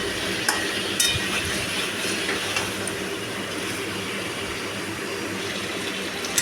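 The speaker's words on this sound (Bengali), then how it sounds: "আবারও ভালো করে নাড়িয়ে চাড়িয়ে কষিয়ে নিচ্ছি।" Chicken meat being stirred and fried down in a pan for kosha, a steady sizzling hiss with soft scraping movements running continuously throughout at an even level.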